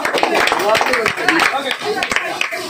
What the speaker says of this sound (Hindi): अंकित के लिए जोरदार तालियां